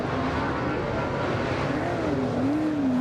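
A Ford-powered super saloon race car engine roaring past at a New Zealand championship race, a loud sustained drone whose pitch dips and then climbs again as it passes.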